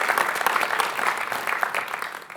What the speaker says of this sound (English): So I think we can give each one an individual round of applause.